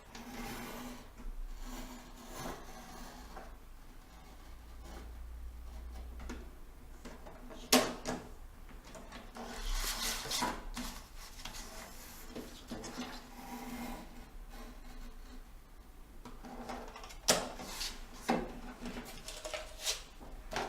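A paper trimmer slices through card, giving a few short, sharp sliding cuts and clicks spaced apart in a quiet room.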